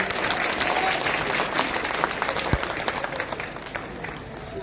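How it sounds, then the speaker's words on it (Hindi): Crowd at an outdoor political rally applauding loudly in welcome, dense rapid clapping that stays strong and gradually eases toward the end. "खड़ा होकर हाथ ऊपर करा, जोरदार ताली बजा के स्वागत करिए"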